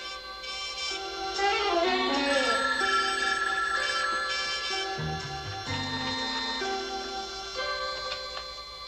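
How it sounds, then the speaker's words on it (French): Telephone bell ringing in a 1960s Green Hornet TV episode, the ring blended with steady tonal music and a busy dramatic score throughout, moderately loud. "Quand le téléphone sonnera, réponds."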